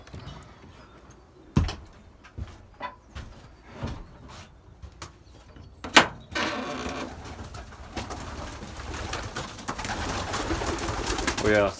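Young pigeons coo softly inside a loft, with sharp knocks and clatters from doors or fittings, then a busier rustling wash of movement and bird calls toward the end.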